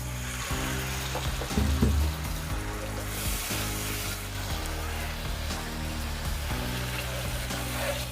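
Water is poured into spice paste frying in oil for a vegetarian brinjal curry with yogurt, giving a loud, close, steady sizzle with bubbling and the scrape of stirring throughout.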